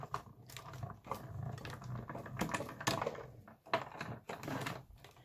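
Paper layers cranked through a hand-operated cut and emboss machine, giving a run of close, uneven clicking and ratcheting grinds in bursts with brief pauses, no voices.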